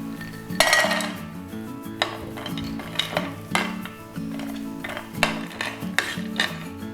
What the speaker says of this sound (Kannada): ಈ ತುಪ್ಪದಲ್ಲಿ ನೀವು ಡ್ರೈ ಫ್ರೂಟ್ಸ್ಗಳನ್ನು ಸ್ವಲ್ಪ ಫ್ರೈ ಮಾಡಿಕೊಳ್ಳೋಣ